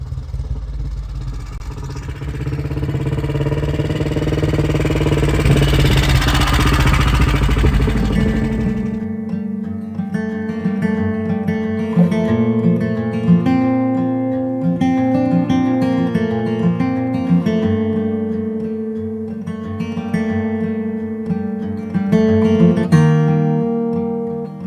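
A pre-war motorcycle engine rumbles loudly as the bike arrives from a test ride, a dense broadband roar for the first nine seconds that then cuts to quieter steady mechanical droning and clatter for the rest.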